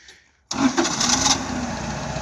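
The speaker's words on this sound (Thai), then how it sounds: "เครื่องยนต์เบนซินสี่สูบนะครับ" A Toyota four-cylinder petrol engine on a 1.5-ton forklift cranks and catches after a short quiet moment, then settles into a loud, steady running rumble close by.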